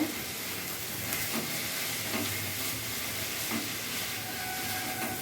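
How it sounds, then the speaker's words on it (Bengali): Banana flower (mocha) curry cooked with ghee is stirred in a pan, a continuous sizzling hiss broken by irregular soft scraping strokes. "এবার আমি ভালো করে নেড়ে চেড়ে নেবো"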